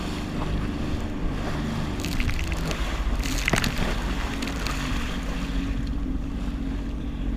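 A small fishing boat rocks on open water with a steady low engine or hull rumble, wind across the microphone and lapping water, plus a few faint knocks.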